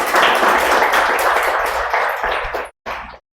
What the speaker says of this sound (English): So first, a great round of applause for each and every student performance.